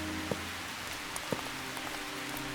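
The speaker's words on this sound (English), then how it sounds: "The rain lashes at the granite ridge, wearing its form reshaped decade after decade." Rain lashes steadily against a granite ridge in the video game Calvino Noir, a constant hiss of falling water broken by a few sharper drop impacts, heard alone.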